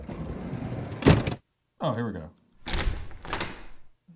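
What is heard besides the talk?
Minecraft door sound effect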